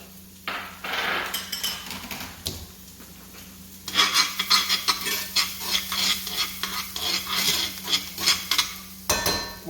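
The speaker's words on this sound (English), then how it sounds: "We're going to add just a little bit of olive oil and about 2 tablespoons of garlic." Garlic sautés in a little olive oil in a hot skillet, a moderate sizzle under repeated scraping and clacking of a utensil against the pan, the stirring strokes coming in a quick, uneven rhythm close by.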